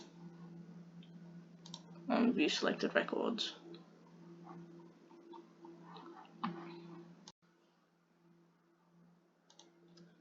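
Computer mouse clicks, a quick cluster of sharp clicks near the start followed by a few isolated ones, heard close under a person talking.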